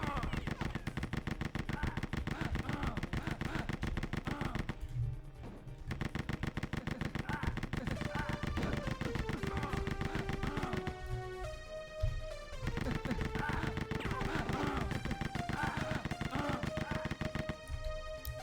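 Rapid automatic gunfire rattles almost nonstop in a Doom mod video game, with brief pauses between bursts and electronic game music underneath.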